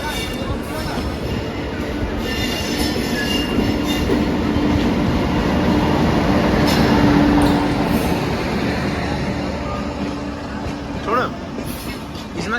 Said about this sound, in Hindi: ट्रेन यहाँ पे 130 किलोमीटर प्रति घंटे की रफ्तार से चलती है